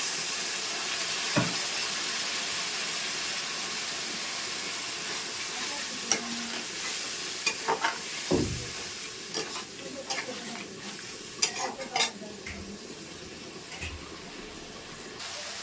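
Sautéing with salt, turmeric and a little water in a pan: a soft steamy sizzle fades into sparse scraping and clattering stirs, with scattered clicks and knocks up close and no talking.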